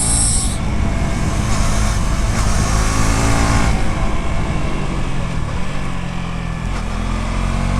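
A 2024 KTM RC 200 GP Edition motorcycle is ridden and downshifted, its engine droning loudly under heavy rushing wind noise, with the pitch shifting as gears change.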